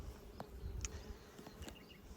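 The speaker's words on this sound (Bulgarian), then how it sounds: "Кошерът много добре жужи." Honeybees buzzing at a hive while checking nuclei and honey supers, a quiet steady drone with a few brief louder insect passes close to the microphone, no talk.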